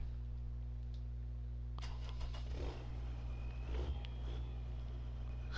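A Deutz tractor in Farming Simulator 19 rumbles with a low, steady engine hum, punctuated by a few sharp clunks and a brief rise in revs partway through, with no talking.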